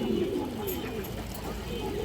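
A khoragola pigeon coos in low, soft, rolling murmurs that run steadily through the whole short moment, close by.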